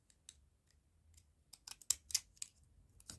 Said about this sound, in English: I like to use my little jaggedy scissors to do